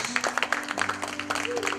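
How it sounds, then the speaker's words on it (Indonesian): Scattered clapping from a crowd at a Christian worship service, brief and patchy, over a steady sustained tone. "berikan tepuk tangan kepada Yesus."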